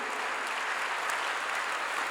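A church congregation applauds during a pastor's sermon on prayer, with dense, steady clapping from many hands filling the whole stretch at a moderate distance and no talking over it.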